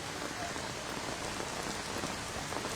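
Heavy monsoon rain pours down in Mumbai's Dadar area, a dense, even hiss of drops hitting surfaces that fills the whole clip at a constant level, with no thunder or voices.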